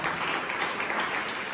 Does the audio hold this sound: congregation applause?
yes